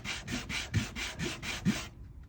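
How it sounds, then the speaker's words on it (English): Leather wallet edges sanded by hand, giving eight quick, even rubbing strokes, close and steady, then a short quiet stop. "you can kind of see I've got my edges sanded to where they're pretty evened up."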